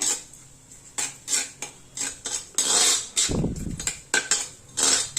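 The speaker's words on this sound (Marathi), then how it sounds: "खसखस अगदी 1च मिनिट आपल्याला परतायची आहे" Poppy seeds are stirred in ghee in an iron kadhai, a spoon scraping and clinking against the pan in repeated strokes, with a soft sizzle underneath and a brief louder thud midway.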